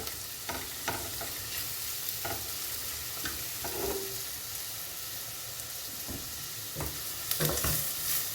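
Onions sauté in a pot for a lentil winter soup with a soft, steady sizzle and hiss, broken by occasional faint scrapes of stirring. No one speaks.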